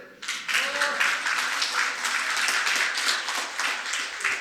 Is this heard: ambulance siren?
no